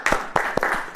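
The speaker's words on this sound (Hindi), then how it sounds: "फिर ताली बजाएं।" Worshippers clap hands again during a Hindi church sermon: four crisp claps in quick succession, near and loud, with no talking between them.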